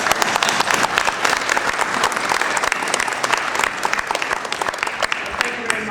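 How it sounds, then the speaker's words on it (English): Sustained applause from an audience at a Los Angeles City Council session, dense, steady clapping filling the whole stretch with some crowd murmur underneath. "Let's give them another round of applause"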